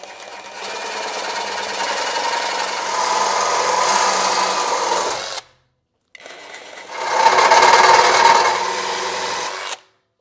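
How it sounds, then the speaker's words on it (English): Power tool cutting through stainless exhaust pipes on a 2016-2023 Camaro SS axle-back, two loud sustained passes of grinding whine separated by a brief silence, each rising in intensity then stopping abruptly. "now we're gonna cut both of those pipes"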